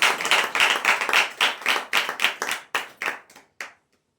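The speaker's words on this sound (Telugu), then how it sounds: "చప్పట్లు కూడా తెలపరచండి." A church congregation claps together in a dense, steady burst of many hands that gradually thins into a few scattered claps and stops, with no talking over it.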